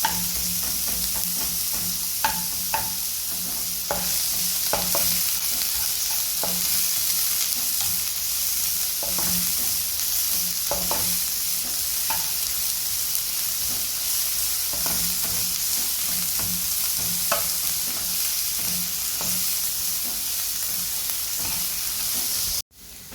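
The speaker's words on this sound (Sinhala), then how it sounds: "අබ ටිකක් වැඩියෙන්ම දැම්මා. දැන් මේක පොඩ්ඩක් කර වෙනකන් ඉන්නවා." Mustard seeds frying in oil in a pan for Sri Lankan cheese kottu, a steady close sizzle with faint crackles and occasional pops and stirring scrapes, running continuously without speech.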